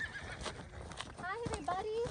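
A horse neighs with rising, wavering whinnies while its hooves shuffle and clop as it steps around restlessly nearby, with a person talking over part of it.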